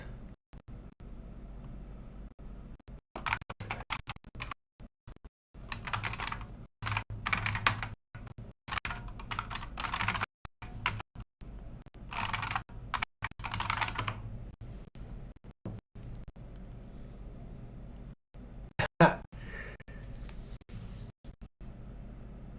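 Keys clatter on a computer keyboard in irregular bursts of fast typing, separated by short pauses, close and fairly quiet.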